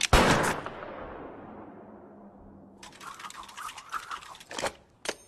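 Gunshots ring out in a cowboy movie scene, with a loud opening blast fading into a long tail, then a rapid burst of sharp shots near the end.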